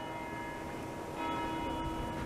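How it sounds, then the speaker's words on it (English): A church bell rings at 6 p.m. on a snowy February evening in Montreal's Hochelaga borough, a faint ongoing toll sounding from a distance over steady outdoor ambience. "It's the bell that tolls for thee."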